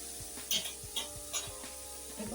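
Chopped red amaranth greens with prawns fry in a pan under a soft, steady sizzle, while a spatula stirs and scrapes in a few distinct close strokes.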